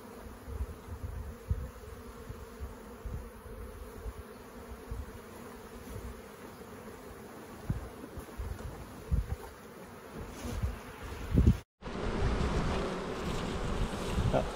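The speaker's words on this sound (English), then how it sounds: "Up close and personal with the bees." Honeybees swarm close to an open hive, a steady low drone of buzzing with occasional louder passes near the microphone, broken by a brief thump and handling noise near the end.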